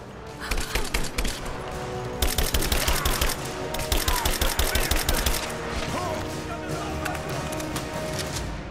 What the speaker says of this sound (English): I got an assault rifle